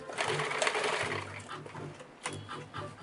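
Sewing machine stitching a seam on a homemade necktie, close whirring runs with brief pauses between bursts.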